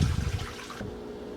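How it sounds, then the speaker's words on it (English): Water from a B+D portable washing machine discharging into a shop sink, a loud rushing gush that cuts off abruptly partway through, leaving a faint hum and trickle. "just discharging the water out into my sink, the sink in my shop"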